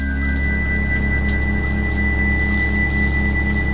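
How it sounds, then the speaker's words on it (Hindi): Shower water runs in a steady, loud, unbroken hiss with a low pump-like hum beneath, serving as a sound effect in an animated Hindi horror story. "काफ़ी देर तक कोशिश करने के बाद पानी फिर से आना स्टार्ट हो जाता है"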